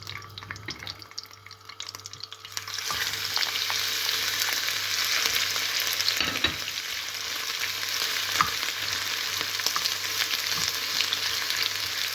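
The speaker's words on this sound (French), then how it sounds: "Nous allons faire revenir quelques minutes les oignons." Onions hit hot oil and a loud, dense crackling sizzle swells after a quieter opening, holding steady with scattered pops and a few stirring scrapes throughout, nearby and unaccompanied by voices.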